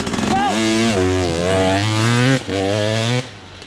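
A two-stroke motorcycle pulls away at the start of a timed run and accelerates hard, its engine note climbing through strong rising harmonics with a brief dip at a gear change, loud and close before cutting off abruptly.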